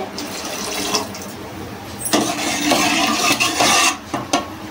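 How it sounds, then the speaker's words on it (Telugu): Water poured from a vessel into a cooking pot of mashed lentils for pappu charu, a close, loud splashing gush that runs in bursts with short breaks. "తర్వాత మనం సరిపోయిన వాటర్ పోసుకోవాలి."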